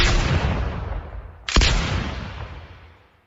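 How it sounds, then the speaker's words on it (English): Two booming gunshots from a hunt in the Pioneer Trail video game, each a sharp loud blast followed by a long fading rumble, the second landing about a second and a half after the first. "Nice shooting. Right on target."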